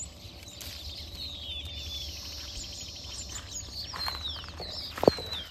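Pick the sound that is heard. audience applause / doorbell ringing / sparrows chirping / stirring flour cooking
sparrows chirping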